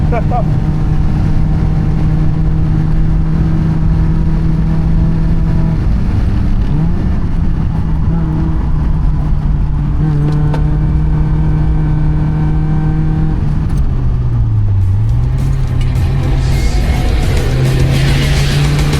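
A diesel car revs hard at a drift event, a loud, steady engine drone rising and falling in pitch with a dip near the end, while excited voices shout over it.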